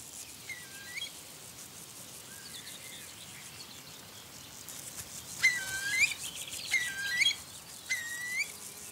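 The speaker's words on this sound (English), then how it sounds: "These may be the last shots of young curlews in this region." Young curlews calling in a marsh in the Upper Rhine Valley: a few thin rising whistles and chirps, fairly distant, bunched in the latter half over a soft background of insect hum.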